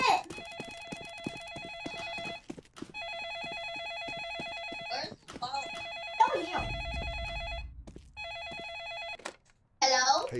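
A phone rings in a Roblox bakery game, repeated electronic bell trills in regular bursts with gaps between them, while a voice talks over parts of it.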